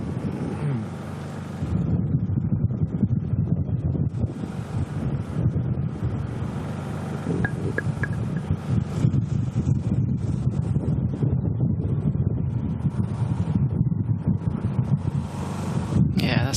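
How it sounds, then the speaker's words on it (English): Strong wind buffets the microphone on a Texas golf course during a women's professional championship round, a continuous loud roar with gusty surges throughout and no clear talk above it. "It's very windy out here in Texas"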